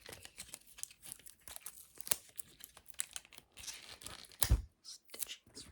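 Close ASMR crinkling and tearing as a plastic prop face is stitched back in place during a pretend surgery, with irregular crisp rustles and one louder crunchy burst near the end.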